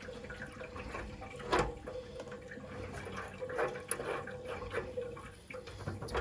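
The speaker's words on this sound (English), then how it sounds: "you'll get a little bit of water that comes out of here. You see it's just gurgling." Water trickles and gurgles irregularly at close range from a loosened radiator valve nut, with small splashes and bubbling pops against a low background hum.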